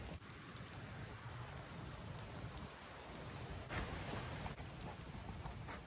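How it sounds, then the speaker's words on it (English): Hard rain falls at a mountain campsite, heard as a quiet, steady patter with scattered sharper drop taps that continues throughout, with no speech. "it's still raining hard and it's getting really soaked"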